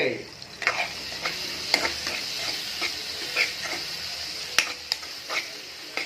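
Tomato pieces being stirred in a frying pan as they soften into a pulp for a spicy egg curry, a steady sizzle broken by repeated sharp scrapes of the spoon, close and alone with no talk.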